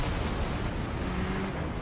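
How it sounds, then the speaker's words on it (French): An explosion in the motorbike game Trials Evolution produces a dense, loud roar of broadband noise that holds steady throughout with no distinct separate blasts. "Et ça pète, hein, il y a de l'explosion."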